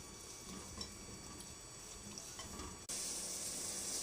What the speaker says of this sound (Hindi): फिर हम थोड़ा सा पानी ऐड करेंगे ताकि ये हमारी गल जाए।